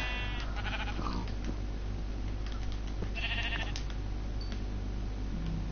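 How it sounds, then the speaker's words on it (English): Sheep bleating in the Minecraft video game, a few short synthetic bleats over steady game ambience with no one talking. "Oh, sheep."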